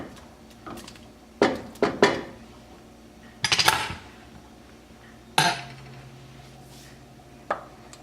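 A spoon stirs potatoes in a simmering pot of clam chowder, giving a few loud, scattered metallic clanks and scrapes against the pot between quiet stretches.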